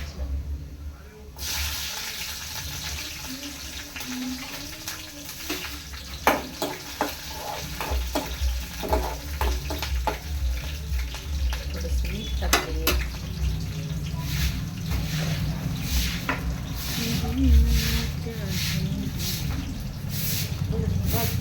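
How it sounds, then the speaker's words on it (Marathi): Green chillies frying in hot oil in a pan and being stirred, a steady close sizzle broken by sharp scraping clicks of a spoon against the pan throughout. "हिरवी मिरची टाकते"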